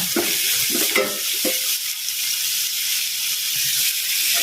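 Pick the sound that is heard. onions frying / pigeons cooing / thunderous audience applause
onions frying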